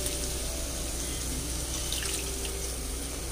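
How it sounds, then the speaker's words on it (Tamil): Chickpea cooking water pours steadily into a pan of masala gravy, a soft continuous splashing heard close and at low volume. "சனா வேக வச்ச தண்ணியை வந்து ஆட் பண்ணிக்கலாம்."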